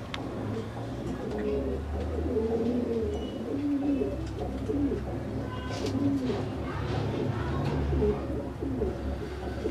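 Fancy pigeons, including a breeding pair, coo repeatedly in a close cluster, overlapping soft rolling calls over a low background hum, with faint voices at times.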